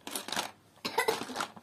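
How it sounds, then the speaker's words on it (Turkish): A child coughs twice in short, close bursts with a brief pause between them, fairly quiet. "Bak nasıl öksürüyor."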